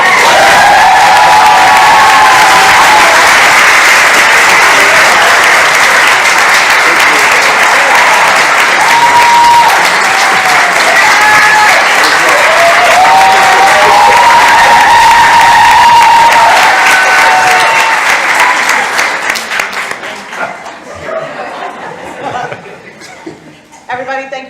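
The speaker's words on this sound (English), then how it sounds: "I get a round of applause when I walk." An audience at a live conversation event with a host gives a long, loud round of applause mixed with cheers and laughter, sustained before thinning and tapering off near the end.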